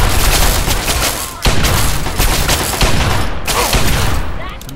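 Gunfire in the video game Fallout 3 comes as dense, loud bursts of rapid shots fired one after another, with brief gaps between volleys and heavy booming impacts.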